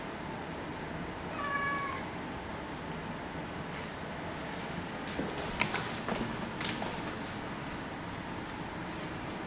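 A cat meows once, clear and fairly close, a rising, drawn-out call. A few faint clicks and rustles follow over a steady low background hiss.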